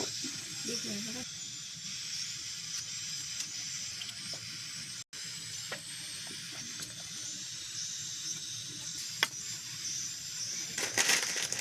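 Chopped tomato sizzles in a hot pan with cooked onion, a steady bright hiss running throughout with small crackles and clicks of stirring, fairly close and even in loudness.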